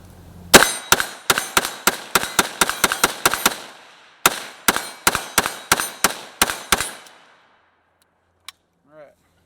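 A Galil ACE rifle in 7.62x39 fires a long string of sharp, loud shots over a chronograph, in two rapid bursts of evenly spaced cracks with short ringing tails, followed by silence and a faint clink.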